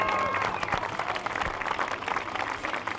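Applause from a crowd rings out at a half marathon finish line in Vittorio Veneto, a spread of clapping heard at a distance, with faint voices mixed in.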